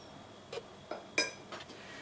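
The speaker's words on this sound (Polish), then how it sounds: "Ja sobie tutaj ze środka wyskrobię miód odpowiedniej konsystencji." Metal spoon scraping and clinking against a honey jar while honey is scooped out for a mango and chicken salad dressing, a few light, close taps and scrapes in a quiet kitchen.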